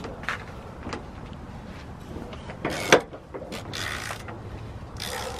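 A wrench breaking 15 mm motor mount bolts loose on an old car, giving several short ratcheting creaks and one sharper crack near the middle, close and moderately loud.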